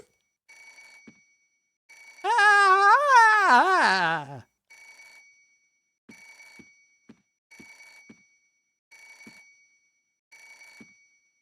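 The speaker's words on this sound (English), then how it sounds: "Yeah, I feel that way when the phone rings, too." A telephone rings in the video game Parasite Eve II: short electronic rings repeat at steady intervals through the scene, briefly drowned out early by a loud, drawn-out voice cry.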